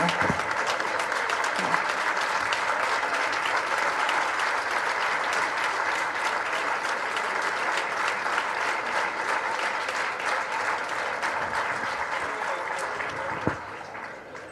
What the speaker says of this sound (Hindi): स्टैंडिंग ओवेशन हमें तारड़ साहब को देना चाहिए